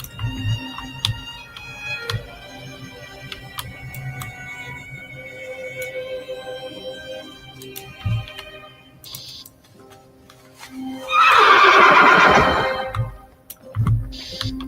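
A horse in a fantasy role-playing video game whinnies in one loud, bright burst near the end, rising over a quiet backdrop of ticking game music and ambience.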